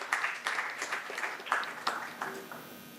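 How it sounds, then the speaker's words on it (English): An audience at a panel event applauds a speaker, scattered claps in a hall at some distance, fairly faint and thinning toward the end. "Can we please have a big round of applause for her"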